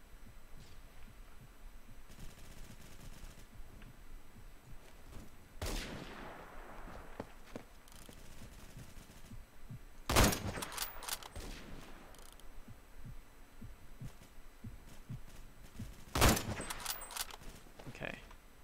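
Gunfire in the video game Phantom Forces, with three separate sharp bursts spread out over a low steady hum, each shot loud and close with a brief ringing tail.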